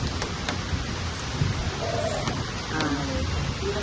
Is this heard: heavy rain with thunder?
yes